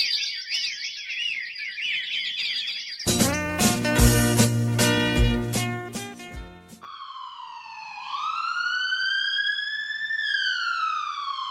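An ambulance siren in a comedic drama: a fast warbling electronic wail, then a loud burst of music with a sharp beat, then a long rising and falling siren tone, each section loud and close.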